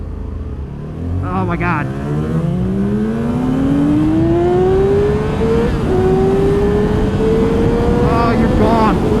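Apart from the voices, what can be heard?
Yamaha R6 and R7 motorcycles accelerating off the line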